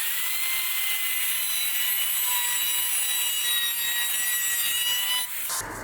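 A handheld router fitted with a bearing-guided round-over bit runs steadily along the edge of a deck board, giving a loud, continuous high whine that holds for about five seconds before cutting off abruptly.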